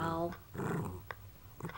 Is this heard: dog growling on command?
yes